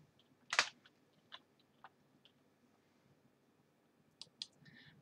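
A computer mouse clicks a few times, light and close: one sharper click early, some faint scattered taps, then a quick pair of clicks near the end.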